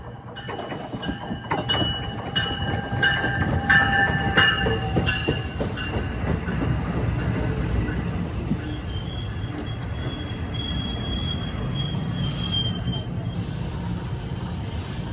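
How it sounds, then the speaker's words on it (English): An NJ Transit express train, number 3937 from New York to Trenton, rolls into a low-platform station with loud rumbling, clanking wheels and high squealing brakes, gradually settling into a steady mechanical hum. "here's 3937 from New York to Trenton, one of those express trains arriving at 3:44"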